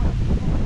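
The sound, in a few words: wind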